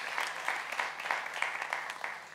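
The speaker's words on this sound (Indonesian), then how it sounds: "Tepuk tangan buat Tuhan Yesus." A church congregation applauds, a dense, close burst of many hands clapping that fades slightly at the end.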